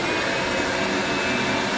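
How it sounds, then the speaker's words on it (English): A steady, loud roaring whine of a vacuum cleaner running continuously close by, compressing cushion foam, with no talk over it. "let's vacuum this down"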